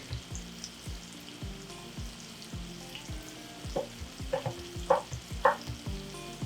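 Onions frying in a pan for chicken carbonara, with scattered stirring scrapes and clicks over a soft steady sizzle, close and moderately loud, no talking.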